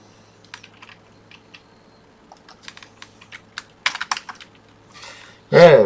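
Computer keyboard typing during a game session, with scattered soft key clicks that grow denser and louder toward the end, then a short loud burst of sound at the close.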